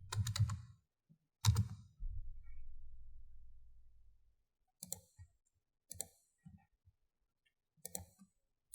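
Computer keyboard keys are pressed as shortcuts, a few sharp clicks in small clusters spread across several seconds, with longer thumps early on, close and quiet, no voice.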